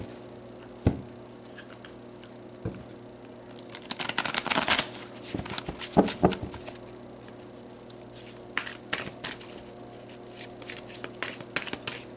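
Tarot cards shuffled by hand in a series of crisp riffling bursts, the densest around the middle and toward the end, with softer single taps between them. No one talks.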